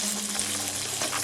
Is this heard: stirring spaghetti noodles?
yes